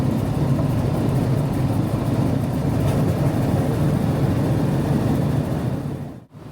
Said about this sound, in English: The captain throttled up all 3 engines, and the noise increased